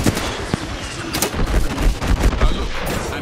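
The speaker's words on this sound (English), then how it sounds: "I'm getting shot at." Loud, dense gunfire from the battle royale shooter Apex Legends: overlapping rapid shots and impacts crackle through the whole clip, with faint game voices mixed in.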